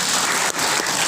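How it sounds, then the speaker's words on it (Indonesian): Audience members clap in a short, dense burst of applause, loud and continuous, with no voices over it. "Tepuk tangan buat semuanya."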